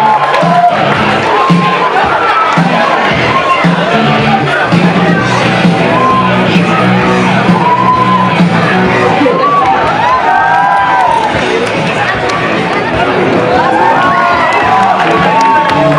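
A crowd at a cosplay contest and costume parade at a comics convention cheers and shouts loudly and continuously, with an announcer's voice over the noise.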